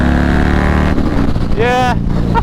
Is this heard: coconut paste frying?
no